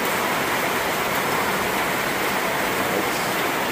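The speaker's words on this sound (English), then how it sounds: "Water is splashing, raining inside here" Steady, dense splashing and pattering of rainwater leaking into a rented home in the Philippines, loud and close, with a continuous hiss like heavy rain falling and dripping nearby.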